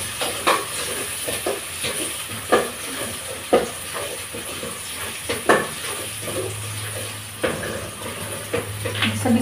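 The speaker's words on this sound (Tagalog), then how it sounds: "Lagay natin yung ating konti ang sibuyas para may aroma." Onions sautéing in a pan for ginisang monggo, a steady hiss with soft clinks of utensils and scattered sharper clatters, a low hum joining partway through.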